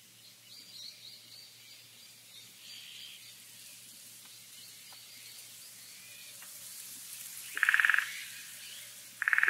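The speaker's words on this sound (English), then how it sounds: "Summer forest, let's go with that one." Quiet outdoor forest ambience with a soft background hiss, scattered chirps and a few brief bright bird calls near the end, with no talking.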